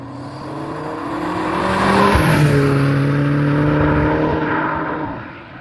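A 460 bhp stage 2 Audi RS3 8P accelerating hard from inside the car, its engine note rising loud and steady through the gears, then easing off at the end.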